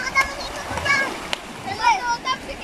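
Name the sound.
children splashing and playing in sea waves at a beach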